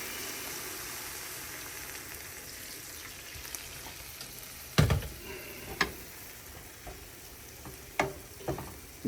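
High-fat ground beef sizzles gently in a pan, a soft steady frying hiss with a few sharper crackles and pops scattered through the second half.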